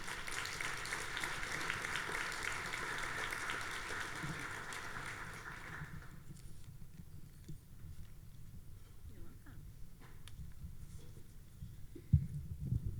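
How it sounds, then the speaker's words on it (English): An audience at a talk on race and sports applauds a speaker, with many hands clapping steadily for about six seconds before it cuts off, leaving faint room noise and a few soft knocks. "Let's give a big round of applause for Chris Marquardt"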